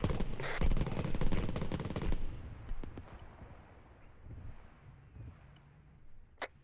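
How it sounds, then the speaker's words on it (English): Anti-aircraft gun in a WWII game set during the Tobruk operation, hammering out a rapid burst of loud, close automatic fire that breaks off after about two seconds, followed by scattered distant shots and battlefield rumble. "that AA gun to stop firing right fucking now"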